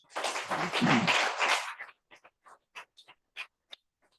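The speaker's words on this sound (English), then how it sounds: "Another round of applause." An audience applauds a priest after his talk on understanding and overcoming addiction, with a burst of steady clapping that fades to a few scattered, isolated claps.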